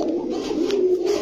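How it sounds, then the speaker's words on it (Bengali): Big-sized red-geared gola khaki pigeons cooing in a low, steady, close murmur that continues unbroken through the brief moment. "লাল গিয়ারের গলা খাকি কবুতর"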